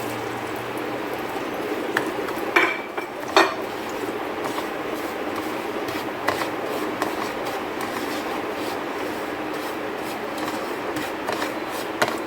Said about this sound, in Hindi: सबसे पहले ये देसी घी है, मैं सूजी इसमें रोस्ट करूँगी।